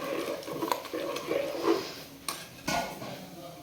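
Washed rice being mixed in a cooking pot with a spoon, close scraping and clinking against the pot in uneven strokes, with a couple of sharper knocks near the end and no talking.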